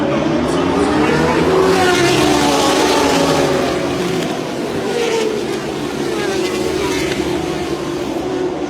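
Motorcycle race start with a pack of riders pulling away, engines roaring loud and steady throughout, a dense blended drone that shifts slightly in pitch as the bikes get underway.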